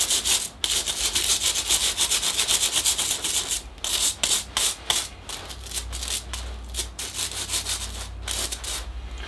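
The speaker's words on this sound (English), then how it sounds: "So I'll start with my big scrub brush." A big scrub brush scrubs a bonsai pot in steady, loud back-and-forth strokes with brief pauses, close up and with no talking.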